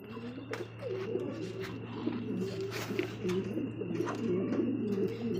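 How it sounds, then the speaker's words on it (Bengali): Pigeons coo in a low, continuous rolling murmur, with a pair of lead-grey birds close by, accompanied by a steady background hum. "দেখতে পাচ্ছি এখানে আরো এক জোড়া কবুতর"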